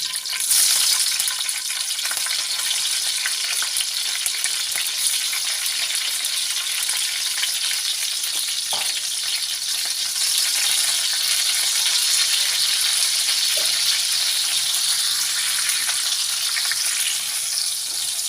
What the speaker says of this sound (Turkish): Şimdi de böyle kıl biberlerim var. Onları kızartacağım.